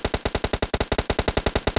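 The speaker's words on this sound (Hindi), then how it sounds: "फायर कर रहे हैं ये लोग, गोलियां जाया कर रहे हैं अपनी।" Rapid automatic gunfire from the mobile battle-royale game PUBG Mobile during a live tournament match, a steady loud stream of evenly spaced shots with no talking.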